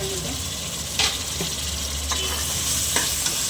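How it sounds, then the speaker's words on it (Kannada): Tomatoes fry in hot oil in a pan with a steady broadband sizzle, broken by a few scraping stirs of a spoon, close by and fairly loud, with no talking. "ಇವಾಗ ಟೊಮೆಟೊ ಹಾಕೊಂಡ್ಬಿಡೋಣ"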